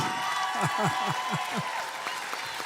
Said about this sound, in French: Et le public vous applaudit avec ferveur.